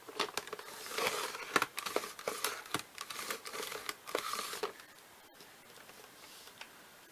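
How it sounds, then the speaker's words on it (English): Scissors trim the edge of glitter card stock, making a close, quiet run of crisp snipping and crinkling sounds that fades to near silence near the end. "Now I can trim this edge."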